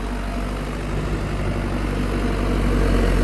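A Massey Ferguson 5710 tractor with a 102-horsepower, 4.4-litre four-cylinder turbo engine idles close by, a steady low rumble that holds even throughout with no voices.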